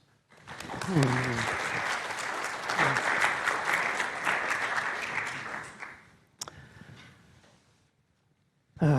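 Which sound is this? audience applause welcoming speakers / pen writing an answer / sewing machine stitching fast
audience applause welcoming speakers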